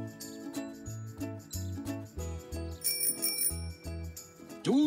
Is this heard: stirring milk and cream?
no